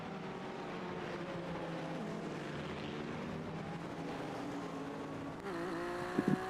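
Le Mans hypercars in a racing video game, a continuous layered engine drone from several cars with shifting pitch, steady and moderately loud, rising near the end.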